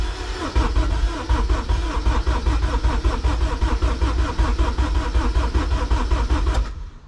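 A K24 car engine cranks on the starter to prime oil on its first start-up, a loud, rapid, even churning that holds for about six seconds and then cuts off abruptly.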